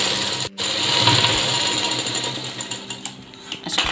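A domestic sewing machine runs steadily while hemming a rounded edge on a simple baby garment, a continuous close mechanical whirr with a brief pause early on and light clicks toward the end, with no voices.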